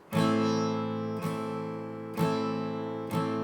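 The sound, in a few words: guitar strummed with only long strokes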